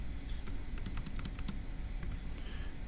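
Fingers tap out a number on a computer keyboard, a quick irregular run of sharp close-up key clicks against a soft steady background hiss.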